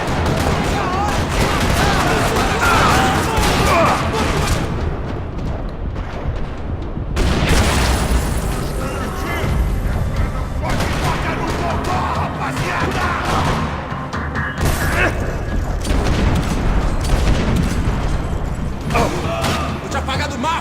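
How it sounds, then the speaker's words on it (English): Gunfire erupts across a parking lot in the video game Max Payne 3, loud rapid bursts and repeated shots with booming impacts, nearly continuous over the whole stretch with brief lulls between volleys. "Another parking lot rattling with gunfire."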